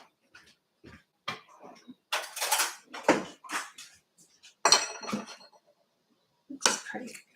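A spoon clinks and scrapes against a bowl of homemade whipped cream in short, scattered bursts separated by quiet pauses, close and fairly faint.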